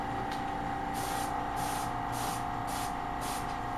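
Short bursts of thinned paint, mixed one-to-one with thinner, sprayed in light coats onto an RC car body for a DuraTrax Evader DT. About five evenly spaced hisses sound over a steady background hum.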